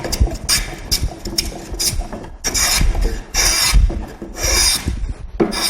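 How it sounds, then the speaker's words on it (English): Scrub plane takes coarse cuts along a wooden edge to shape a gentle outside curve: loud, close rasping strokes in repeated bursts separated by short pauses. "I also like to use a scrub plane when I'm doing gentle furniture scale curves that are outside curves."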